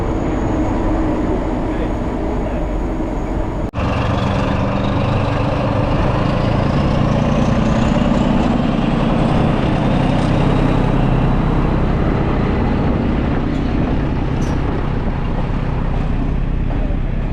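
A British Rail Class 14 "Teddy Bear" diesel shunting locomotive runs with a steady, loud engine drone and broad rumble, with wind buffeting the microphone throughout.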